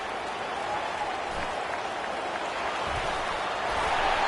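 A stadium crowd in the NCAA 25 college football video game cheers a punt return, a steady roar with clapping that holds level and swells slightly at the end.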